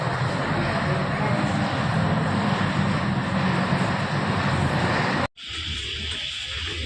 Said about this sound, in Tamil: ஏர் ஏசியா அங்கே நிற்குது